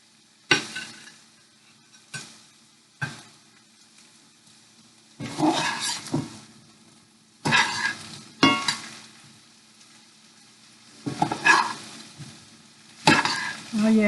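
Squash, zucchini, spinach and onions sauté in butter in a pan, stirred in repeated bursts of sizzling and scraping separated by quieter pauses, close and clear with no talk.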